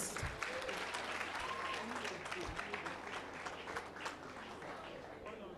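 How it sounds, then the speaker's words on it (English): An audience at a veterinary graduands' oath-taking and induction ceremony applauds its president; the clapping is faint and distant, with voices murmuring beneath it. "A round of applause for our President."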